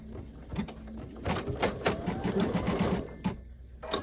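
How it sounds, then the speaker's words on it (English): An embroidery machine stitches around a circle on a St. Patrick's Day coaster, a steady fast mechanical needle patter running throughout at close range with no talk. "And I'm going to stitch around that circle again."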